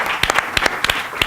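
Audience applause at a multiple sclerosis conference session in Araba, a short burst of scattered clapping from a hall crowd, fairly loud and close, lasting just over a second.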